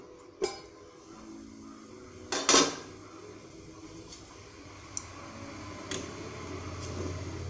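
A lid comes off a covered pot of steaming upma on a gas stove: a few scattered metallic clinks, with one louder clatter midway, over a low steady kitchen hum.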